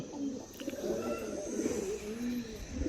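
Female pigeons cooing softly nearby, a few low, rolling coos overlapping in a quiet setting.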